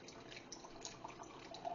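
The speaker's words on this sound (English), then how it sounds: "This is going to be Cabernet. Haley's Corker. Let's give it a pour." Josh Cellars Hearth Cabernet red wine pours into a glass in a soft, steady liquid stream, faint and continuous with no talking.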